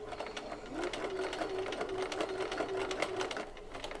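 A sewing machine runs steadily, stitching a gusset base seam over earlier piping stitches, a close continuous whirring hum with rapid needle rhythm and no talk.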